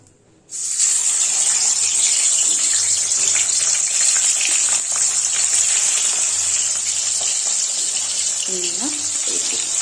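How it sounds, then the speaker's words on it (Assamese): Fish slid into hot oil on a gas stove sets off a loud, steady crackling sizzle that rises abruptly and holds, with a faint voice briefly underneath near the end. "তেলত দি লৈছোঁ মাছখিনি এতিয়া ফ্ৰাই হ'ব দিম"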